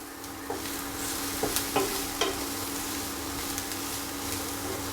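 Capsicum and chicken pieces frying in a pan, a steady close sizzle with a few brief stirring knocks and clinks, no talking.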